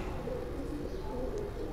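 Pigeons cooing nearby in a steady, continuous stretch, the soft low coos blended with a dense background hum and no talk.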